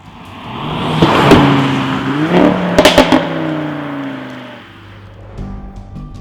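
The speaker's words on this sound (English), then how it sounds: "give the RS3 its unmistakable sound through the optional sports exhaust" A 2015 Audi RS3 Sportback (8V) five-cylinder engine revs loudly through the optional sports exhaust, climbing in pitch, with rapid pops on the upshift, then settling into a lower drone.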